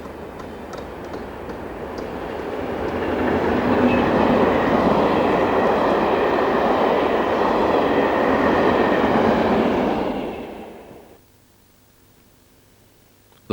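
Postal train topped and tailed by Class 73 locomotives rolling past on the Willesden to Dover run, a loud rushing roar with wheel noise that builds, holds, then cuts away abruptly to quiet near the end.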